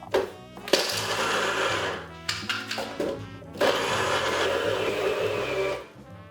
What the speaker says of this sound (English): because I'm using a small blender